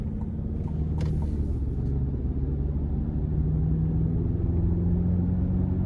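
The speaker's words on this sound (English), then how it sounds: "tires don't seem to be overly loud, at least not at this speed" Steady tire and road roar fills the cabin of a 2023 GMC Canyon AT4X with a 2.7-liter turbo four-cylinder, a low continuous rumble at moderate speed with a faint brief rattle near the start.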